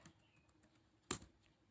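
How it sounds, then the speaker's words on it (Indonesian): A password is typed at a computer keyboard: a few faint, sparse key taps followed by one sharper, louder keystroke, close and quiet with no talk. "Kemudian kita akan mengetik password kita."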